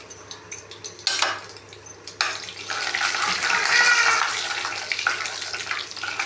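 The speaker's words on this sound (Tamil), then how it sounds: "கடுகு உளுத்தம்பருப்பை போடுறோம்." Mustard seeds and urad dal dropped into hot oil for a mango pachadi tempering burst into a loud, crackling hiss in surges. A few sharp pan noises come first, and no one talks.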